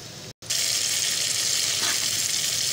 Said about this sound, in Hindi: देखिए हम इसको फ्राई कर रहे हैं